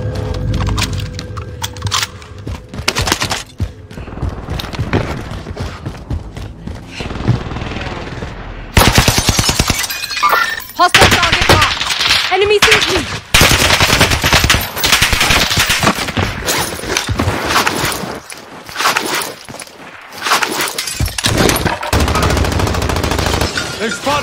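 Sustained automatic gunfire from a Modern Warfare 2 multiplayer match, dense rapid bursts and cracks that run nearly nonstop, some close and loud, with a brief lull and a voice speaking over the shooting.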